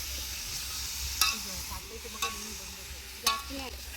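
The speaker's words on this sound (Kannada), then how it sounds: "ಚಿಕನ್ ಆಗಿ ಸ್ವಲ್ಪ ಅದು ಎಣ್ಣೆಯಲ್ಲಿ ಫ್ರೈ ಆಗಬೇಕಂತೆ." Chicken sizzles in hot oil, a steady frying hiss broken by a few sharp clinks and scrapes of stirring.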